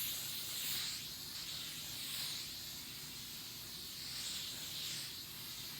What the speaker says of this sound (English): So I'm just going to spray that all over.